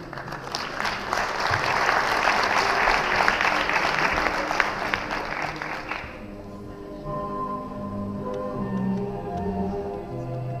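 Dense applause from an award ceremony audience rolls on strongly for about six seconds, then cuts off, leaving quiet room tone with a faint low background hum.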